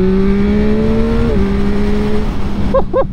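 A 2022 Yamaha MT-09 SP engine pulls steadily under the rider, a loud droning whine whose pitch drops briefly as the quick shifter and auto-blipper change gear, with a short voice at the end.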